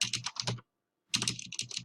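Code being typed on a computer keyboard: rapid, close clicking keystrokes in two quick bursts separated by a brief silent pause, clear and alone with no voice.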